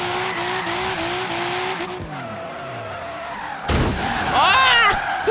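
A car drifting in Forza Horizon 3 during team tandem runs: a steady revving engine shifts through gears, then a sharp, loud tire squeal with a skidding screech rises near the end.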